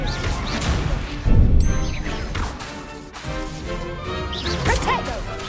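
Spells cast in Hogwarts Legacy burst out as loud whooshes, crashes and impacts in quick succession, a dense, busy barrage of game effects.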